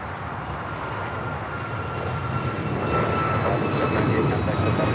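A JetBlue jet rolls for takeoff on runway 25 right at LAX, a broad, steady engine roar with a high whine that swells slightly louder toward the end, heard alone.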